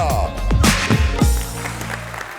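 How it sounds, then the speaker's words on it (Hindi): Studio audience applause welcoming cricket host Ramiz Raja onto a television talk show set, loud clapping mixed with sharp whip-like accents and music, sustained and close. "भरपूर तालियों में इस्तकबाल कीजिएगा"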